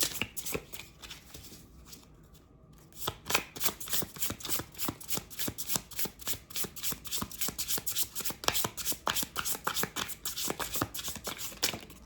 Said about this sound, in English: let's pull out an animal spirit card for you, for this collective